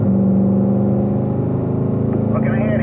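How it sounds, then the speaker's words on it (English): A car accelerates out of a corner and shifts up toward fifth gear on a driving course, its engine droning steadily under a speaking voice, with pitch shifts near the end as gears change. "Accelerate out, back up to 5th gear."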